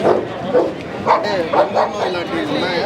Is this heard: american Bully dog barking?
yes